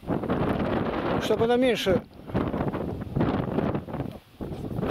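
Wind gusting outdoors by the water where a raft is being set up, a steady rushing roar buffeting the microphone beneath people talking.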